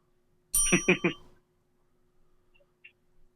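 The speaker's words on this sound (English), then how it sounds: "That deserves a bell, wouldn't you say, Peyton?" A bell sound effect rings out on a podcast: a bright, quick triple ding near the start, followed by a lingering ring that fades into near silence with a few faint ticks.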